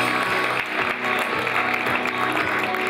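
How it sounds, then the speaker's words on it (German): Broad, steady applause from a crowd honouring a table tennis player after a European cup semifinal win, a dense sustained clatter of hands at fairly high level with no pauses. "Und einen großen Applaus für Lee Fenn"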